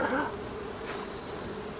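Honeybees buzz around a hive during a mite treatment inspection, a faint steady hum with no one speaking.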